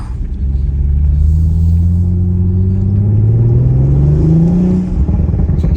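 An Audi RS5 fitted with a 034Motorsport carbon fiber intake builds loud turbo spool under heavy engine rumble, rising steadily for several seconds before easing off at the end, with a short release that fits a blow-off.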